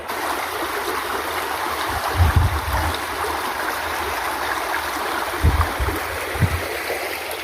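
The Rio Cobre river runs through the countryside with a steady, close rushing of flowing water, broken by a few low thumps and gurgles, and no voices.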